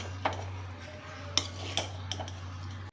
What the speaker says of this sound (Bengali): এবার আমি সব একসঙ্গে মিলিয়ে নিচ্ছি, সস, সবজি, চিকেন যা যা আমি ভেজেছি এগুলো সব আমি একসঙ্গে মিলিয়ে নিচ্ছি